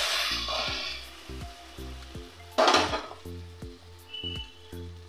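Spice paste for a thin katla fish curry hits a hot pan and gives a short, loud burst of sizzling midway that fades into a softer hiss, over light background music.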